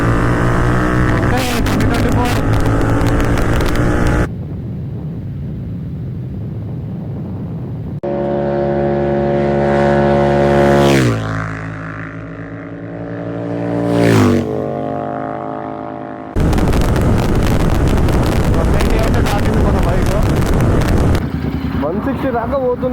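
A Royal Enfield GT650 twin-cylinder motorcycle runs flat out near 160, a loud wind-blasted engine roar that breaks off into quieter stretches with rising and falling revs, with shouted talk over it.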